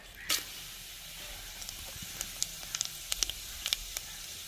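Curry masala spice powder sizzles faintly in hot oil in a pan for egg curry, a soft hiss broken by scattered sharp crackles and pops that grow more frequent toward the end.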